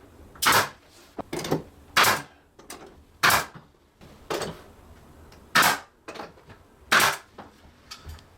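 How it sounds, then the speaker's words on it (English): An 18 gauge brad nailer drives 2-inch nails into crown moulding on a wall, giving six or seven sharp, loud pneumatic shots at irregular intervals, each with a short hiss and smaller clicks and knocks from handling in between. "use a brad nailer with some 18 gauge 2-inch nails"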